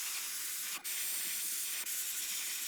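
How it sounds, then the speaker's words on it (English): Steady airbrush hiss as paint is sprayed through a dryer sheet held over a fishing lure, a continuous close spray with two brief dips where the flow is cut. "instead of darkening the back with just the airbrush, I'm just going to hold the dryer sheet in place and we will spray a little bit more"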